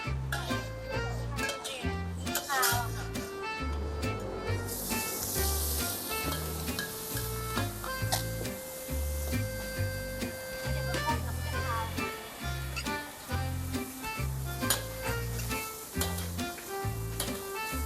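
Chicken offal frying in a little oil in a pan for a Thai basil stir-fry, giving a steady close sizzle with stirring throughout, under people talking and other tonal background sounds.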